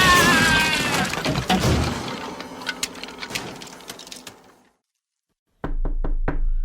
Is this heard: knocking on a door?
yes